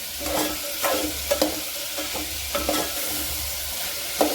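Tender green broad-bean pods being stirred in hot oil tempering in a pan for a Maharashtrian bhaji, soft sizzling with intermittent spoon scrapes and clinks every half second or so, close and fairly quiet.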